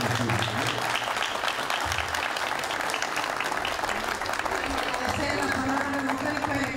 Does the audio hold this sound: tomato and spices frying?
no